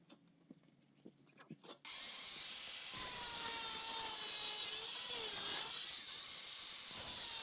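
Power saw cutting through sheet metal on a Ford Mustang rear end: after a few faint knocks and taps, a loud, steady, hissing grind kicks in and runs continuously, up close.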